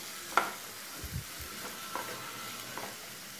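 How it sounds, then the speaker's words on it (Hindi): Green peas and sweet corn are stirred and roasted in a pan, with a faint sizzle and a few soft scraping stirs spaced across the moment, quiet and close. "इन सब चीज़ों को अच्छे से मिक्स कर देते हैं और 1 से 2 मिनट के लिए इसे इस तरह से सेक लेते हैं"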